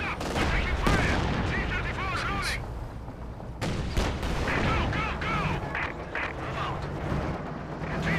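Mortar blasts and gunfire from a Company of Heroes 2 battle boom and rattle steadily, with heavy impacts and sustained shooting under a talking voice.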